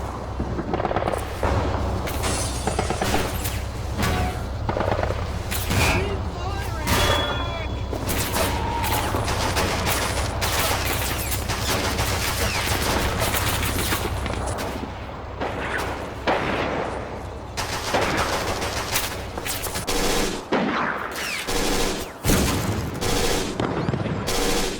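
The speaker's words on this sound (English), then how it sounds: "German MG42s covering the hilltop there" German MG42 machine guns rattle in the Men of War: Battleaxe battle, dense overlapping bursts of automatic fire mixed with explosions and combat noise, loud and continuous throughout.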